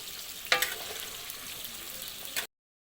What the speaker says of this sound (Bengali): পটলগুলোকে লাল লাল করে ভেজে নেব।